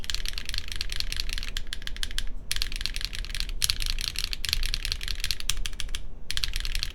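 Fast, steady typing on a gasket-mount KBDfans Tofu65 3.0 mechanical keyboard, loud and close, with continuous crisp clacks and a few brief pauses, no voices.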